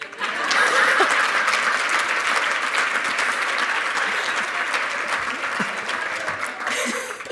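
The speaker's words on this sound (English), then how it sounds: "You can clap now." A crowd at an award ceremony breaks into strong, sustained applause that swells early and holds steady, with a few scattered chuckles and a brief voice near the end.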